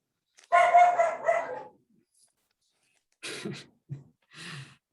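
A dog in the background of a home during a lecture gives one longer bark, then after a pause a few shorter, lower barks and huffs, moderately loud with quiet gaps between.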